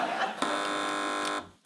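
A quiz show buzzer on a comedy news panel show sounds once as a loud, flat electronic tone lasting about a second. A brief snatch of voice comes just before it.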